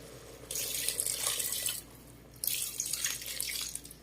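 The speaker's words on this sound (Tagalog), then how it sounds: "Lagyan na natin siya ng tubig." Water pours in two splashing bursts into a cooking pot of pinakbet with bagoong, with a short pause between them.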